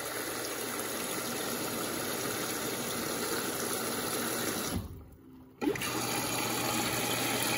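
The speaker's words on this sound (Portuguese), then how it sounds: "Ela começa jogando água aí no compartimento de pré-lavagem antes de jogar o sabão." A Samsung WW85J43MW front-load washing machine fills with water for its pre-wash, a continuous close rushing hiss of flow that briefly drops out for about a second before resuming at full strength.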